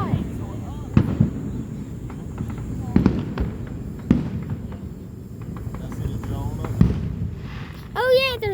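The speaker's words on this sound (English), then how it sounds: "You should have just seen the fireworks." Fourth of July fireworks pop and thud at irregular intervals, mostly distant booms with a whistling rocket near the end, while people talk and react nearby.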